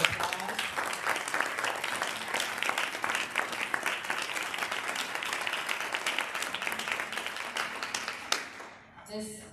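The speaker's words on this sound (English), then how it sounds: "So can you give another round of applause?" Audience applause at an awards gala, a sustained dense burst of many hands clapping close and loud, tapering off at the end into quiet.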